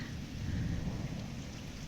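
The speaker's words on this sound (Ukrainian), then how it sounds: "Дощик знову ж сильніший" Heavy rain falling steadily outdoors near a river during a fishing trip, a dense constant wash with a deep thunder rumble rolling underneath, no talking.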